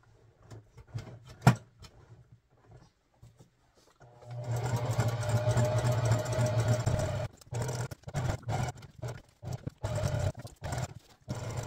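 A sewing machine zigzag-stitches twill fabric, starting with scattered mechanical clicks and thumps, then a steady close whirring run of rapid stitching for a few seconds, followed by short stop-start bursts.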